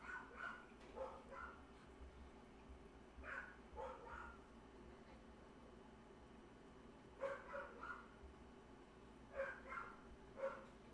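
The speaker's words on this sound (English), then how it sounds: "That's him barking his head off." A dog barks indoors in short bursts of several yelps, faint and somewhat distant, separated by quiet pauses.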